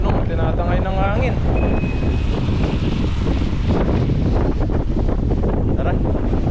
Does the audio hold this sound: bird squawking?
no